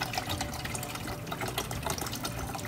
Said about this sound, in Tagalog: So, lagyan lang natin siya ng tubig.